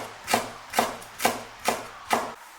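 A knife slices bird's eye chilies into thin rings on a cutting board, five crisp, evenly spaced chops at close range with no voices.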